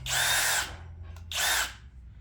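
SKIL PWR CORE 20 brushless 20V cordless 1/2-inch drill driver whirs in two loud, steady bursts separated by a short pause, close up with no talking.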